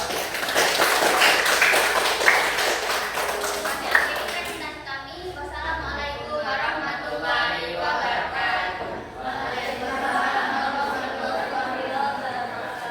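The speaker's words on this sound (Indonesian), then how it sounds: "Tepuk tangan untuk kelompok 2" A classroom of junior high school students applauds a student group after its math presentation, with dense, bright clapping for several seconds that gives way to chatter and talk.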